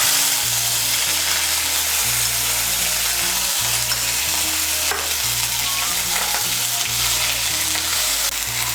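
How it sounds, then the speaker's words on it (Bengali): Onion paste fries in oil for an egg curry, a dense, loud, continuous sizzle up close with rhythmic low scraping of a spatula stirring through the pan. "মিশিয়ে নিয়ে পেঁয়াজ বাটাটাকে লাল করে ভেজে নেব"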